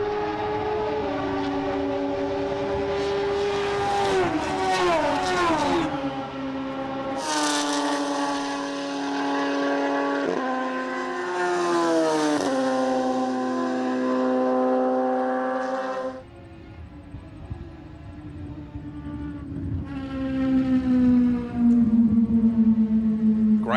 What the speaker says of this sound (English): Very, very high revving, screaming motorcycle engines on board the Radical 1500cc Suzuki Hayabusa